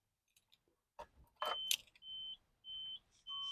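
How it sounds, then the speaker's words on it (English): A 1995 Nissan Pulsar N15 beeps after its battery is reconnected, with a few clicks and clunks first, then three sustained high electronic tones repeating at a steady pace, fairly faint and close. "Battery's in, beeping's on."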